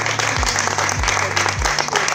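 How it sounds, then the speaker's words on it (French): Audience applause at an inauguration event, loud sustained clapping with a few low thumps underneath. "Je crois qu'on peut vous applaudir, Frédéric"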